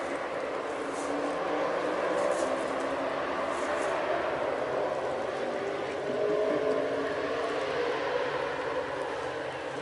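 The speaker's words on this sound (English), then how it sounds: "when the locomotive gets through the other end of the tunnel, it will make a huge black smoke show" A freight train locomotive labours through a tunnel in Birmingham, Alabama, producing a continuous, muffled, broadband rumble that holds steady at moderate loudness from start to finish.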